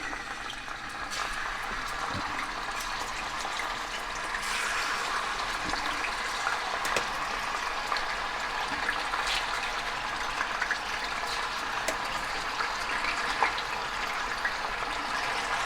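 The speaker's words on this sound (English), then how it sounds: "Our oil is hot enough, so let's start placing the chicken in the frying pan." Steady, dense sizzling and crackling of chicken frying in hot oil in a frying pan, continuous and fairly loud with scattered pops, no talking.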